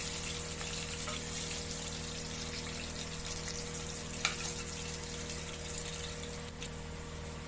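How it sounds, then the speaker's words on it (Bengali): Pieces of katla fish fry in hot oil, making a steady, even hiss with one brief click partway through and no one talking. "আমার মাছগুলো ভাজা হয়ে গেছে"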